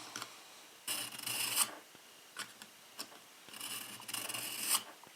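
Chipped kitchen knife blade drawn through a Smith's sharpener, two long rough rasping strokes with a few short scrapes between, close and fairly loud with no talking.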